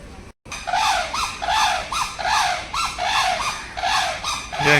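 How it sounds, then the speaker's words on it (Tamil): Repeated high, squealing calls of a white rooster in quick succession, loud and close, with about eight cries in a row. "ஆண்கோழி வெள்ளை கலர்"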